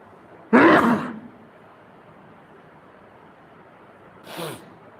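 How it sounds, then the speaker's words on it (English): Two sneezes: a loud, sharp one near the start, then a softer, shorter one a few seconds later, with quiet room tone between. "now we know that we are sneezing"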